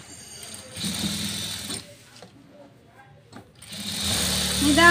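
A sewing machine stitches piping onto a blouse sleeve in two close, steady whirring runs separated by a brief quiet pause.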